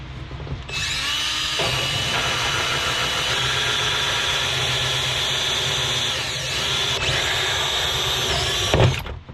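Power drill driving a hole saw through metal on a Jeep XJ during a front coil-over install: a loud, close, steady whining grind that runs almost unbroken for nine seconds before cutting off, no speech.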